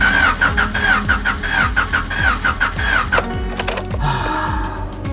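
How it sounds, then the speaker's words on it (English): A third-generation Honda Prelude cranks on a weak battery, giving a rapid, laboring starter churn up close that sags and slows in uneven pulses without the engine catching. "the battery sounds like it's done"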